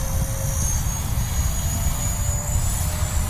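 A Blade Fusion 180 micro RC helicopter running on 4S at idle up, its rotor spinning fast in a steady, loud, continuous whine and whirr with a broadband rush, close by and uninterrupted, with no talking.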